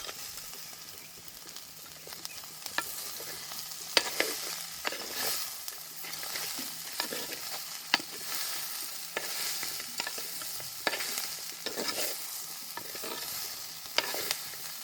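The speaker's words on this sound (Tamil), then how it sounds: "இப்போ நண்டையும் அதுக்குள்ளே சேர்க்க போகிறேன்" Crab pieces tumble into a sautéed onion-and-spice mixture in a pan at a village home, stirred with sharp spoon scrapes and knocks over a steady close sizzle of frying, no voices.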